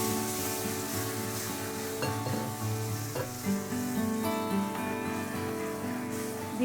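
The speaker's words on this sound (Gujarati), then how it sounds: "હવે આપણે એમાં ધીમે ધીમે દૂધ એડ કરતા જશું" Milk poured into roasted semolina for rava sheero sets off a loud, continuous sizzle and bubbling in the pan, with stirring scrapes and some faint tonal background sound, and no voices.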